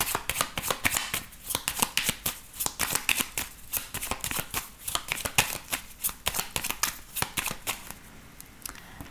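A 32-card deck of playing cards is shuffled in a steady run of crisp, rapid riffling bursts, close up and continuous for several seconds, with no voices.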